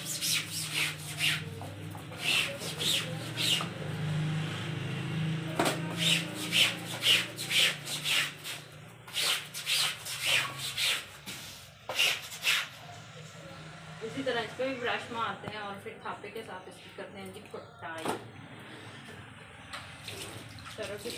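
Clothes are hand washed with water and scrubbed with a brush, giving repeated wet rubbing and brushing strokes in irregular bursts, with splashing water between, close and moderately loud; someone talks over much of it.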